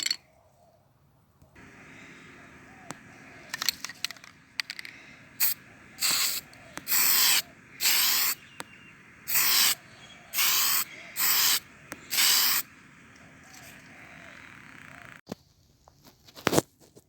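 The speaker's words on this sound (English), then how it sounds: "I'm going to spray it." Series of aerosol spray bursts painting an O gauge J15 model locomotive, about ten hissing blasts of roughly a second each in a steady rhythm, close and loud, with a few clicks before and after.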